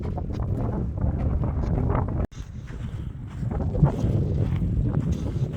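Steady wind buffeting the microphone on an exposed desert hillside with Joshua trees, a loud rumbling roar that drops out briefly before gusting back in.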